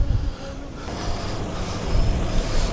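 Strong wind buffets the microphone at an outdoor used-car market in Kokand on a November day, a loud, continuous low rumble with gusts and no speech.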